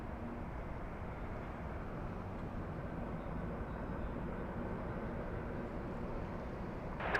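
Steady broadband roar of a jet airplane taking off from runway 24 left at LAX, heard from a distance and holding level throughout, with a brief louder burst at the very end.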